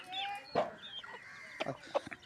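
Chickens, a rooster and hens, cluck in short, scattered bursts close by, a few sharper calls standing out against a quiet yard.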